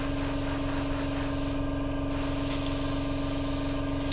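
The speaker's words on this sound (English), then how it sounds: "just spray in as and how is required" Airbrush spraying brown paint onto a Hasegawa 1/32 scale P-40 model aircraft: a steady, close hiss of air and paint that runs unbroken, with a constant compressor hum underneath.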